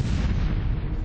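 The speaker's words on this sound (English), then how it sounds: "An explosion rips the crowd apart." Explosion ripping through a crowd in documentary footage, a loud, dense, rumbling blast that fills the whole short stretch without letting up.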